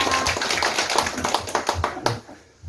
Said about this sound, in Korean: 힘차게 박수 주세요